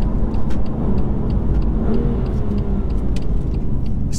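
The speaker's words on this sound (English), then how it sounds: "Throttle response increases, gearbox is sharper, and induction noise is present." A BMW M2 engine roars steadily up close, a throaty intake rumble building as it accelerates, with faint clicks and ticks scattered over the top.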